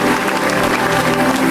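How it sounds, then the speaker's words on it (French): A church congregation applauding the Lord during a gospel service, dense, steady clapping that carries loud and even throughout without a break. "Clap your hand for Jesus"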